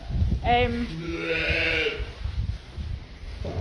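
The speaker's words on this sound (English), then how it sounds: "all our sheep that we produce are born, reared and processed in Scotland" Sheep on a Scottish farm bleat in a long, wavering call close by, with farm background noise and people talking around it.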